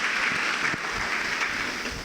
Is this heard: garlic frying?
no